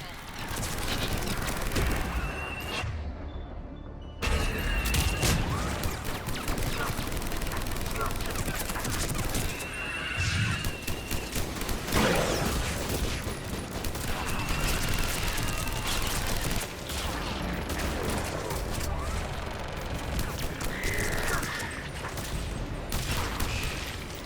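Combat in Mass Effect 3 on the asari homeworld, with missile strikes and sustained gunfire rattling in loud, dense bursts and occasional booms, under intermittent voices.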